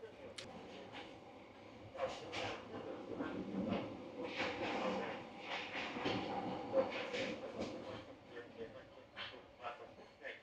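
A passenger train rolls through Vietnam on a long journey, heard from inside the carriage as a low rumbling with rhythmic clicks. Scattered voices and movement noises come and go over the top.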